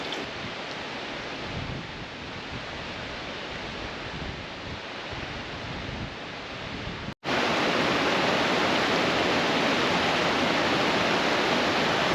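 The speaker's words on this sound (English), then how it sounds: "this waterfall behind me is one of the biggest on the island and one of the biggest in the Azores" Large waterfall at Ribeira Grande on Flores island in the Azores, a steady broadband roar of falling water that grows louder and fuller partway through after a brief cut, with no talking.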